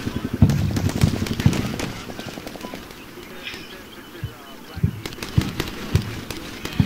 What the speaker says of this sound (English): So I do exchange some fire with elements on the other side of the town.